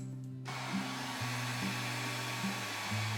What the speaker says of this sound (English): a household hairdryer can do the same thing for you.